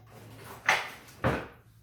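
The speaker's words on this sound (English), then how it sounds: "my utensil drawer is a hot mess. Something is always not wanting to go in." Two thuds from a crowded kitchen utensil drawer being shoved shut, a first push that jams and then a second, firmer push, close by in a quiet room.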